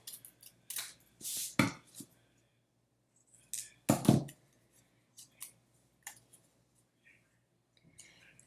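Scissors snipping through paper while making a car collage, a few sharp close cuts in short bursts with quiet pauses between, later snips fainter and sparser.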